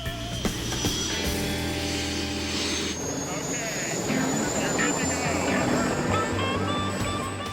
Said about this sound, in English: the chopper fires up